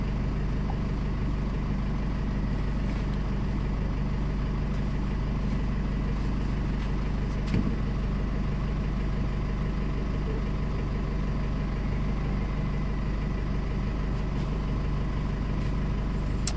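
A Chevrolet Trailblazer engine idles steadily and loudly up close, a constant low rumble holding unchanged throughout with no talking.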